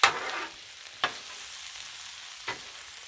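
Smoked sausage and vegetables frying on a flat-top griddle, a low steady sizzle punctuated by three distinct scraping spatula strokes spaced about a second apart.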